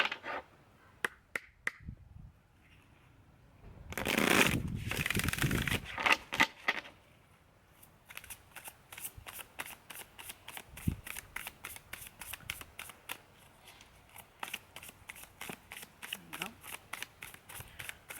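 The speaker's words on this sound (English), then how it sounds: "Let's pull one last card for you guys, Leo." Tarot cards being shuffled and pulled from a new deck: a few soft snaps, then a dense burst of riffling, followed by a long run of quick, regular card flicks and taps, with a voice talking over parts of it.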